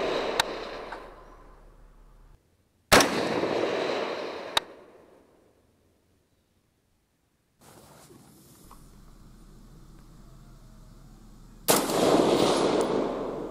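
Rifle shots fired at a distant target outdoors, two sharp loud cracks each trailing off in a long echo, with a third report near the end after a stretch of quiet.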